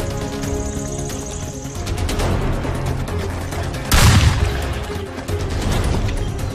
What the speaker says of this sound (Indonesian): Widih, widih, mainan tembak-tembakan.